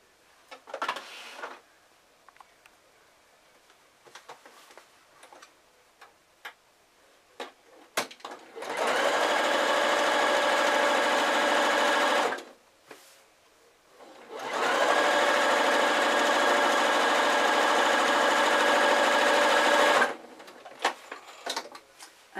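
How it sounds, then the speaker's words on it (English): A sewing machine stitches the bottoms of Christmas drawstring sack pieces in two loud, steady bursts of several seconds each, with small clicks and handling noises before and between the runs. "the next thing to do is to sew the bottoms of each piece together"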